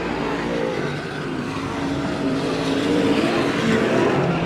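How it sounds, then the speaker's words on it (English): A stock car at a Veterans Day race in Porterville, California roars steadily with a broad engine drone that swells and eases as the driver goes on and off the throttle, mid-distance and continuous. "You can hear him on the throttle, off the throttle, on the throttle."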